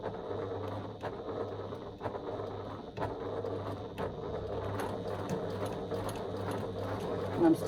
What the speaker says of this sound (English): I'm stitching 1/8 of an inch away from the side of the strap keeper